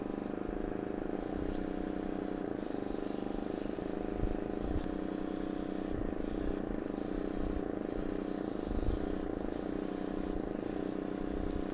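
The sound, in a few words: paint spray gun spraying paint with some overspray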